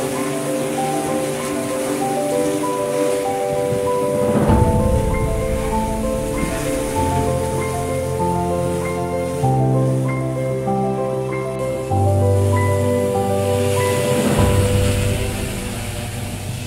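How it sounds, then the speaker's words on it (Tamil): An agricultural spray drone applies pesticide and fertilizer, spraying up to 3.5 litres a minute at speeds up to 7 metres a second. Its motors hold a steady, loud droning whine that shifts pitch several times over a continuous rushing hiss, with no talking. "ட்ரோன் பறக்க ரெடி ஆயிருச்சு."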